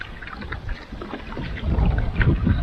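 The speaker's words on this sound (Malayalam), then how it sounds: "കാറ്റ് ഭയങ്കരമായിട്ടുണ്ടല്ലേ" Strong wind buffets across the water on a raft in Periyar Tiger Reserve, a rough low rumble of gusts that swells louder in the second half.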